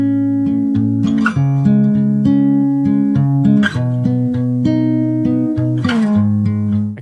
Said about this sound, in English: Here's a guitar I recorded.